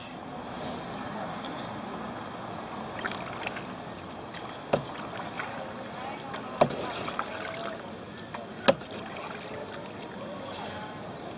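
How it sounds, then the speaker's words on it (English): A rented single canoe paddles along city canals, with soft water swishes and occasional knocks of the paddle against the hull over a quiet outdoor background. "I rented a canoe for the canals in the city."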